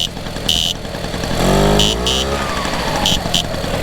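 A Solex 6000 moped engine, nearly cold, starts up close by: a rising buzzy rev swells and settles into a steady running drone, with voices talking over it.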